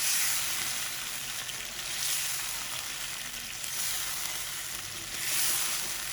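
Butter chicken karahi sizzles steadily in the pot while it is gently mixed with red chilli, Kashmiri chilli and turmeric, a continuous close frying hiss that swells and eases in slow waves, with no talking.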